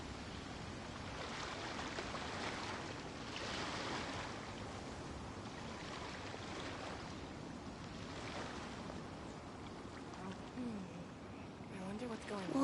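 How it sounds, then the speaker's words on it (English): Calm ocean waves in the video game Genshin Impact, a steady, soft wash of surf with gentle swells rising and falling throughout, fairly faint and continuous with no clear voice over it. "waves are as calm as always."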